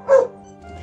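A single short dog bark sounds close and loud, followed by a quiet low rumble in a war-damaged setting after a rescue from a collapsed basement.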